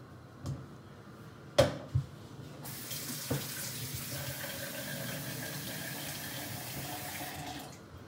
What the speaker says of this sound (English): Gonna add more water in here.